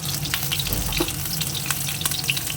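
Potato frying in hot oil in a home kitchen, with a steady, continuous sizzle and crackle and small pops throughout, close and fairly loud.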